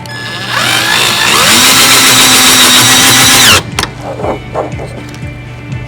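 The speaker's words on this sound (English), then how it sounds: "Turn the drill bit to drill." A power drill drives a self-tapping screw into a junction box plate, a loud rising whine that holds for about three seconds and then cuts off, followed by a few quieter handling knocks.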